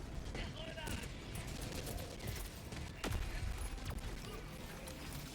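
Rapid machine-gun bursts from a turret in the Helldivers 2 shooter, crackling steadily across the clip amid dense battle noise, with voices talking over the gunfire.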